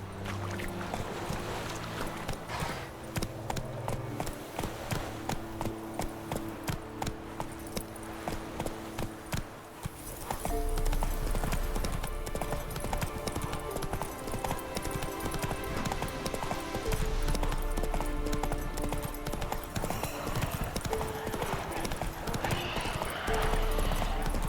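Horse hooves clip-clopping at a gallop in The Witcher 3, a rapid steady rhythm over game music and ambience, continuing throughout with a shift in the backing sound midway.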